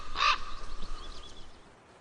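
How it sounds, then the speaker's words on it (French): A single loud, harsh crow caw rings out close by in a forest, followed by fainter distant bird calls over quiet woodland ambience. "Les corbeaux, les crieurs publics de la forêt,"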